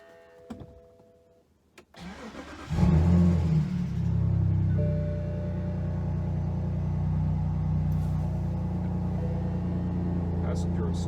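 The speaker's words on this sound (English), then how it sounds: "and then start it up." A BMW E60 530i cranks briefly after a couple of clicks, fires up and settles into a steady, low rumbling idle that continues evenly to the end.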